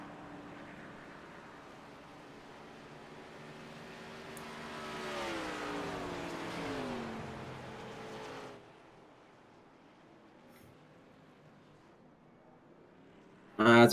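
Race cars on track in an ANZCAR Abruzzi Cup Series racing video game, engine drone building as cars sweep past, then fading to a quiet hum before an abrupt loud burst at the end.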